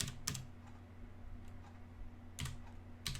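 Quiet typing on a computer keyboard, with short bursts of key clicks separated by pauses, close by, against a low steady hum and with no speech.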